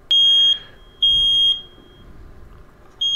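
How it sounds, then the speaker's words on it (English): A carbon monoxide detector being tested sounds its alarm: loud, piercing electronic beeps in three bursts, each about half a second, with a low room hum and no speech between them. "I also picked up a carbon monoxide detector."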